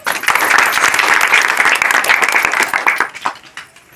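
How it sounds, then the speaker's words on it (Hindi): Loud applause from villagers at an outdoor community meeting in Hashampur, Jansath, where mosquito nets are being handed out: a crisp burst of many hands clapping close by that tapers off near the end. "इनके लिए भी जोरदार ताली"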